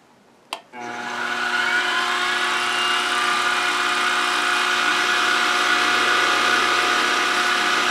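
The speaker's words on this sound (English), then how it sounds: "I have to keep vacuuming up the chips" A shop vacuum runs steadily, sucking up metal chips from a trepanning cut during machining, starting with a sharp click and then holding a loud, continuous whine with tonal hum to the end.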